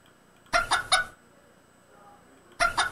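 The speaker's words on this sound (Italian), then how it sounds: "possiamo mettere i polli all'interno" Chickens in the farming game My Little Farmers give two short bursts of clucking, each made of three quick clucks, separated by a near-silent pause, clear and close with no talk.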